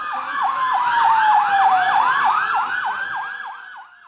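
Emergency vehicle sirens wail loudly and continuously during an emergency response drill at a hotel in Cavtat, the rising and falling tones overlapping as the vehicles pass close by.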